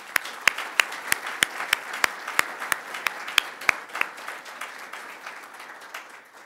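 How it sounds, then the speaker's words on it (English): A symposium audience applauds its panelists with steady, moderately loud clapping, sharp individual hand claps standing out in a regular rhythm over the softer crowd wash, gradually fading toward the end. "Please join me in giving a round of applause for all of our panelists"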